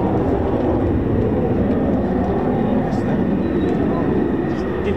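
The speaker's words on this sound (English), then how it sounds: "got to see an F-35B low approach" An F-35B fighter jet making a low approach, heard as a loud, sustained broadband engine roar that holds steady throughout.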